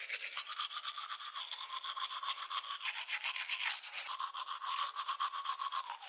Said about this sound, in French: à quoi ça sert de se laver les dents?